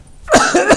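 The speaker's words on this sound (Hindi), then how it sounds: "मेरे को भी खांसी आनी शुरू हो गई है" A man coughs once, a sudden harsh burst that breaks into two or three rough, throaty pulses close to the microphone.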